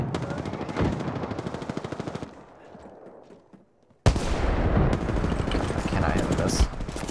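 Rapid automatic gunfire in a shooter video game, dense and loud, breaking off into a quieter stretch before another sudden heavy burst of shooting resumes.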